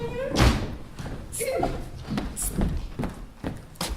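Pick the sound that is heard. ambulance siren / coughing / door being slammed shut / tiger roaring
door being slammed shut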